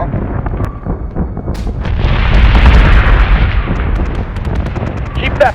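Capital-ship batteries firing and explosions in the space combat video game Battlestar Galactica Deadlock: a loud, swelling mass of booms and rapid gun bursts with sharp pops scattered over it, building up after a couple of seconds.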